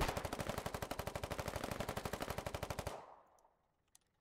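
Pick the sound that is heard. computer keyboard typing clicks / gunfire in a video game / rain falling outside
gunfire in a video game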